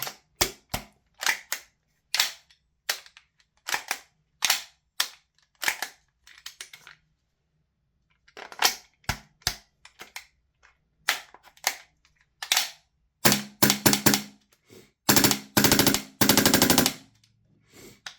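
A Lambda Defence B&T GHM9-G gas blowback airsoft gun cycled with an empty magazine: sharp mechanical clacks in single shots and short rapid bursts, close and loud, with a faster string toward the end.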